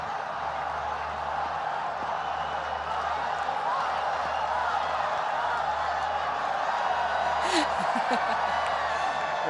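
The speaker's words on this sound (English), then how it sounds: "Rawalpindi crowd, we've just gotten a chant going." A Rawalpindi cricket crowd chanting at a Pakistan match, a broad distant roar with rhythmic swells and a brief whoop, heard under a commentator's voice.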